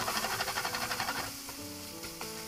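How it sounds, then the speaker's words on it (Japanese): Ground meat for lasagna sizzles and spits loudly in a hot pan, with a rhythmic stirring scrape early on before the frying settles into a steady hiss. "でこれで肉の炒め段階は完了です。"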